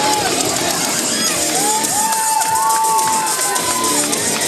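A packed crowd at an independent wrestling event roars and cheers continuously, loud and dense, with scattered whistles and individual shouts rising above the steady wall of noise.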